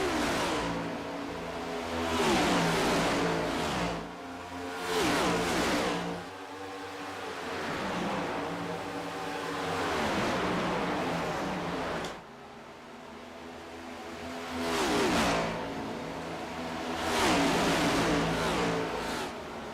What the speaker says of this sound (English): Thompson's got to get around these guys. He's got a fast race car